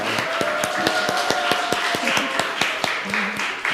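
A church congregation claps rhythmically in a brisk, steady beat of sharp hand claps, with a voice speaking over it.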